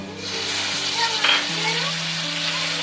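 Goat meat cooking in a pan with a little hot water, sizzling steadily while being stirred, with a faint scrape of the spoon midway, close and continuous.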